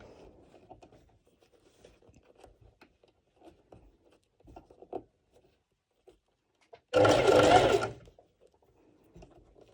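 A sewing machine stitching a bikini top runs in one brief, loud burst of about a second, set among quiet handling rustles and small clicks.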